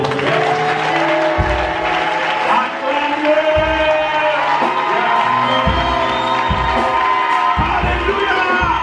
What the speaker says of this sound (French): Acclamons très fort Jésus.